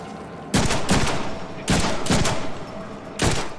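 Gunfire in the Deadpool video game, three loud bursts of rapid automatic shots in quick succession, each lasting about half a second, with no talk over them.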